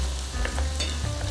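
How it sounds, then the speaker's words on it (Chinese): Pork rinds deep-frying in hot oil for Yunnan Dai-style fried pork skin, giving a steady close bubbling sizzle with a few soft pops and scrapes, no voices. "锅里倒油加热，放入猪皮，慢慢的油炸"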